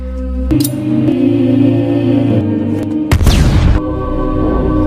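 A phosphorus grenade explosion erupts in a sudden, loud, hissing burst that fades after a moment, set against a deep droning musical background.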